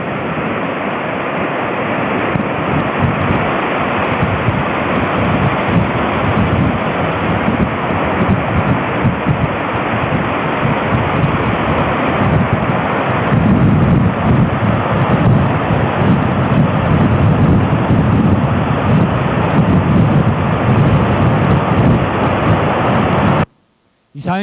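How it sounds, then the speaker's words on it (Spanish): Water thunders down La Chorrera, the tallest waterfall in the country, in the Eastern Hills, a loud steady broadband roar that fills the whole stretch without a break until a brief cutoff near the end. "Esta es la catarata más alta del país, está en La Chorrera, en los Cerros Orientales"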